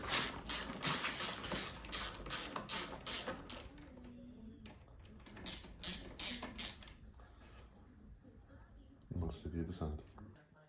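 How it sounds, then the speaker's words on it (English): Ratchet wrench clicking in quick bursts while loosening motorcycle headlamp cluster bolts, close and fairly loud, with pauses between runs and a low voice speaking near the end. "the next part now is to remove the actual headlamp cluster itself, which is that bolt there, and then the same on the other side"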